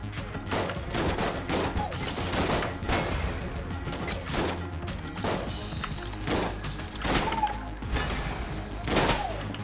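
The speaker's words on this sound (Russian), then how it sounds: "Буду с дробовика походу стрелять." Shotgun firing in the Enter the Gungeon video game, a series of sharp, punchy blasts at irregular intervals amid busy game noise, fairly faint and close, with no talking.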